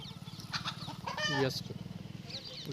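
Domestic chickens clucking on a poultry farm, steady repeated clucks close by with a rising squawk midway, while people talk over them.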